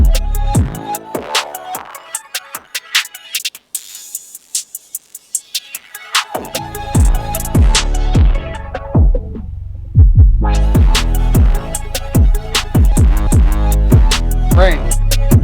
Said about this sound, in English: First things first, high pass filter.